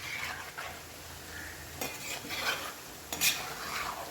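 Chicken 65 pieces fry in hot oil over medium heat, a steady crackling sizzle with occasional louder bursts and faint clinks of a utensil against the pan.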